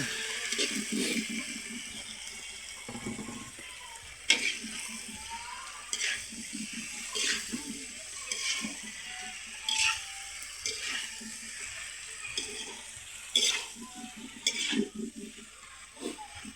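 Beef being stirred in a pan with a utensil, scraping and clinking in irregular bursts over a soft, steady sizzle, fairly quiet and close.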